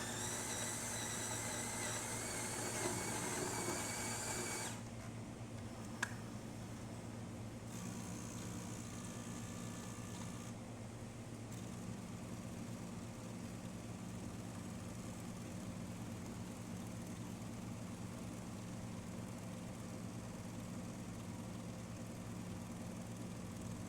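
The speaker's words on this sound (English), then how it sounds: "So I'm just going to pull a shot just to show you that the machine is working." A repaired Jura S8 coffee machine hums steadily, loud at first, then drops to a quieter continuous drone as it grinds and pulls an espresso shot, with a brief click partway through.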